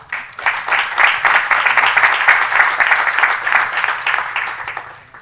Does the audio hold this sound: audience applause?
yes